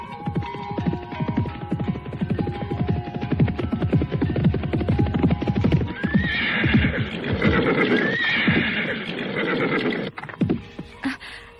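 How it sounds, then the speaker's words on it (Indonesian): A horse gallops in close and loud with a steady beat of hoofbeats, then whinnies sharply twice over the running hooves before slowing near the end. "Suasana di padepokan itu pecah oleh datangnya seekor kuda yang berderap."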